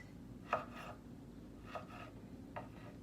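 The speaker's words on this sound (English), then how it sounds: "Then I'm just going to slice it in pieces." A knife slices healthy food into thin pieces on a board: three soft, separate cuts spaced about a second apart, faint and close, over a quiet background hum, with no voices.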